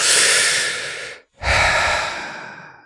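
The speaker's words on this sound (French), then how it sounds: "Prenez une grande et profonde respiration pour venir bien l'ancrer profondément en vous." A slow, deep breath taken during a guided meditation: a long, loud inhale, a brief pause, then a full exhale, heard close up with no talking.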